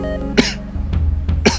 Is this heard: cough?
yes